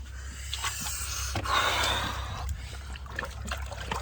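Water sloshing and trickling as a person lowers their shoulders into a cold ice bath on a chilly morning, close and steady with a sharp breath in the middle.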